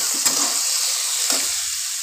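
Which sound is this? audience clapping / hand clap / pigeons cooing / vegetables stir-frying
vegetables stir-frying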